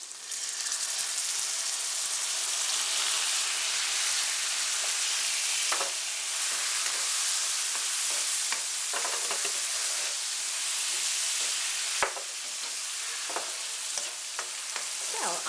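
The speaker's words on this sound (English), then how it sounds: "fry for a few minutes or maybe a minute, and add some salt, some sugar, and some lime juice" Shoestring potatoes with chilies fry in a pan with salt, sugar and lime juice, a loud, continuous close sizzle with scattered clicks and scrapes of stirring throughout.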